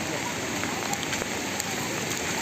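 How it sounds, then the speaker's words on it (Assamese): Heavy rain pours down steadily outdoors during a flooded, waterlogged outing in Udalguri, a dense continuous hiss of drops hitting surfaces that stays loud and even throughout with no talking. "বৰষুণ বহুত জোৰত দি আছে"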